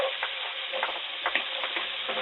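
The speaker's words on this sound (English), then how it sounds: "I'm just going to saute this for a few minutes just until it turns just a nice light golden brown" Chopped onion sautés in melted butter in a pan, a steady close sizzle with light stirring scrapes and small clicks running throughout and no talk.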